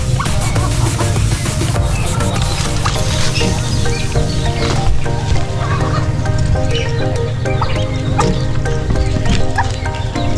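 Two brooding turkeys in a small backyard farm pen make a steady, continuous mix of low fowl calls and clucking close by, with other poultry sounds blending in throughout.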